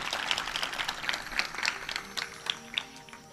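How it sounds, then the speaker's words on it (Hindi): Crowd applause at a Bhagwat Katha religious discourse in Lasalgaon, steady clapping with distinct individual claps standing out, moderately loud over a faint tonal hum from the sound system. "मुझे लगता है साउंड सिस्टम के लिए एक बार जोरदार तालियां बजानी चाहिए।"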